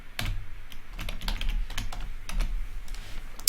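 Computer keyboard keys tapped in a steady run of clicks while a title is typed, close and clear with no talk.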